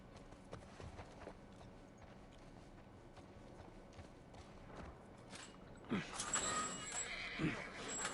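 In The Last of Us Part I, a horse's hooves clip-clop unevenly and faintly at first, then a louder whinny and movement noises rise toward the end, with voices talking over it.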